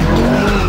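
A Ferrari California's tires squeal and skid briefly on a slippery, twisty road, a loud, close screech lasting under a second.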